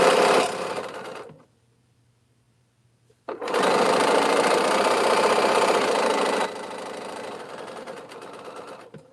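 A sewing machine runs back through a seam on a bag project in loud bursts: a short run, a pause of about two seconds, then a longer steady stitch that eases slightly toward the end.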